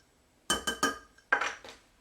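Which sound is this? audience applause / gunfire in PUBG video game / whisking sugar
whisking sugar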